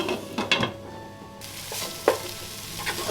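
Onions and tomatoes sauté in a pan for prawn biryani: a soft, quiet sizzle broken by a few sharp stirring scrapes and clicks, close up with no talking.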